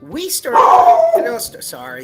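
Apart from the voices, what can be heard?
dog barking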